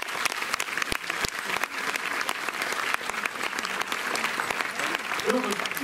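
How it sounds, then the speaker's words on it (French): Audience applause fills a cinema hall at a film screening event at Le Méliès in Montreuil, steady dense clapping from a crowd throughout, with a few voices audible underneath. "Vous pouvez les applaudir chaleureusement."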